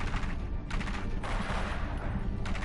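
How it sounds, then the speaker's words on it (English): Rapid bursts of gunfire in the Batman Telltale video game, several loud overlapping volleys in quick succession filling the short scene. "Gunshots."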